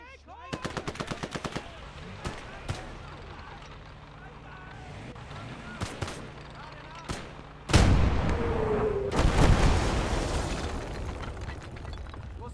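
Heavy guns fire in a WW2 real-time strategy game: quick rattling machine-gun bursts and scattered sharp shots build into booming, rumbling blasts, with voices talking in the background.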